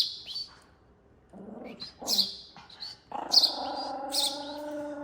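A baby sparrow being hand-fed chirps with sharp, high chirps up close in a few short bursts, between low, quiet noises that may be a person's voice.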